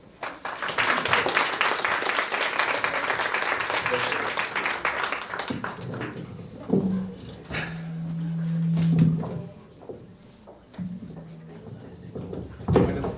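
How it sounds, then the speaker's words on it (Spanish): An audience at an academic lecture gives the guest speaker a burst of loud, dense applause for about six seconds that then dies away into room noise, a thud and scattered talk. "recibamos con un fuerte aplauso"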